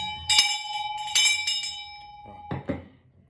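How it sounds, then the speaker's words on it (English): A bell rings in several separate strikes, each a bright metallic tone that rings on and fades. A couple of duller knocks follow near the end, and no voices are heard. "Before I start trying to ring my bell."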